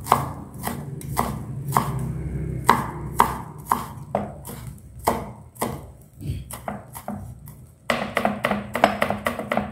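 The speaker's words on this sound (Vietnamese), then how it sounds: "Các bạn sẽ băm cái phần hành thơm ra cho mình nhé." Shallots being minced with a knife on a cutting board: brisk, irregular chopping taps, close and fairly loud, with a short lull before a faster run of cuts at the end. No voices.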